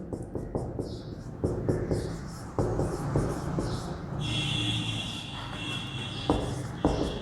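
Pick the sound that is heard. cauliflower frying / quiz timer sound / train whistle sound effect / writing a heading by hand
writing a heading by hand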